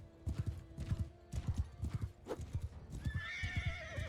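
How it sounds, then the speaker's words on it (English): Horses in the Mount and Blade II: Bannerlord battle game, with rapid rhythmic hoofbeats pounding close and steady throughout, then a high whinnying neigh rising over the galloping near the end. "There's too many horses."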